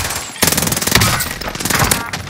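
A PPSh submachine gun fired from the hip in a Call of Duty game, a rapid, loud, close burst of rattling shots that starts abruptly and keeps going almost unbroken for about two seconds.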